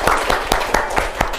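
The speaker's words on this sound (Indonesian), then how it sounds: "Beri tepuk tangan." Children in a classroom clapping together in a quick, rhythmic burst, with distinct claps landing roughly every fifth of a second, loud and close.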